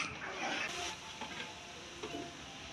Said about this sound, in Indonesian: Ini pemirsa goreng kerupuk gender